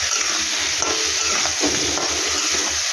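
A ginger, garlic, onion and chili paste fries with potatoes in a pan, giving a loud, steady sizzle broken by regular scraping stirs. No one speaks.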